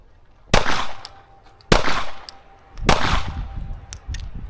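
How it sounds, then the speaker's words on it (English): Three sharp pistol shots from a Shadow Systems CR920X ring out outdoors, spaced about a second apart, each a loud crack with a short echoing tail, followed by faint metallic clinks. "Let's put some more rounds down range."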